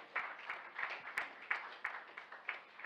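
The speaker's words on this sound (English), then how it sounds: "Keep clapping for her." Faint, rhythmic clapping from a church audience welcoming a woman coming forward to give her testimony at a graduands' service, with evenly spaced claps about every third of a second, quiet and slightly distant.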